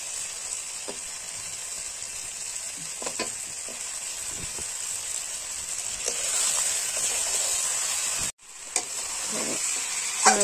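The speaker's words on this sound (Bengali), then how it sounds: "মাংস দেওয়াই গেছে" Pieces of meat for a meat roast sizzle steadily in a hot pan with a loud, continuous hiss, broken by occasional stirring clicks and a brief dropout near the end; no talking.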